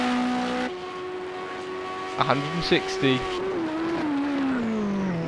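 Race car in Project Cars 2 on the Long Beach street circuit, its engine tone climbing steadily through the gears down the straight, loud and continuous beneath a commentator's voice.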